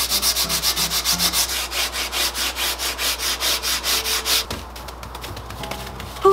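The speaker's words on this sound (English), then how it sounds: "if I take some sandpaper to it, I can actually lighten up the frame a little bit" Sandpaper rubbing over a wooden picture frame by hand, quick steady back-and-forth strokes in a regular rhythm, close and fairly loud, slowing to a few scattered scrapes near the end.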